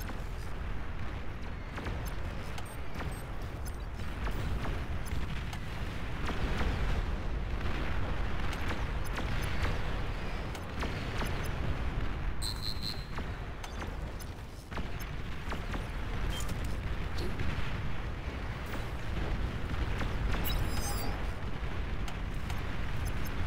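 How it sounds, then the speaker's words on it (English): Long-range plasma cannons fire and explode continuously in the strategy game Beyond All Reason, a dense, rumbling barrage of booms and blasts layered over one another with no pause for the whole stretch. "Long-range plasma cannons are targeting your units."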